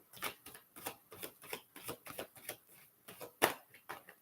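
A deck of tarot cards is shuffled in a quiet room, giving a steady series of soft riffling bursts roughly every half second, close and moderately quiet with no voices.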